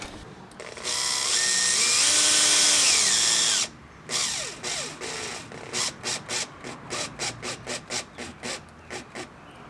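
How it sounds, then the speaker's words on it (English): A power drill drives screws into a Type R front bumper lip on a 10th-generation Honda Civic: one long steady whir, then a string of short stop-start bursts as each screw seats, loud and close with no talking. "now we're going to push the middle part in and we're going to align it and we're going to put screws through it."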